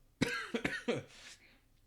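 A close run of three or four rough coughs in quick succession, fading into a breathy exhale.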